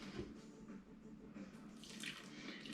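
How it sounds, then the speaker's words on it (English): Warm water trickles a little at a time into a bowl of pizza dough, a faint, soft, continuous pouring and splashing with no voices. "I'll be adding bit by bit warm water until the dough is not sticky on the edges of the bowl"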